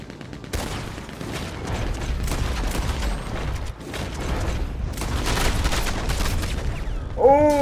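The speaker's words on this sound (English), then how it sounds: "It's a fucking maxim gun!" Maxim machine gun in a Wild West shooter game, sustained rapid bursts of gunfire filling the scene, loud and close, with dense rattling volleys running almost throughout and a brief tonal sound at the end.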